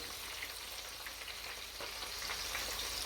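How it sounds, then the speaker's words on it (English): Oxtail browns in a pot with a steady, close sizzle and hiss of hot fat that runs unbroken and fairly even, with a few faint scrapes and no talking over it. "Yes, we brown it. Give it a nice, rich color."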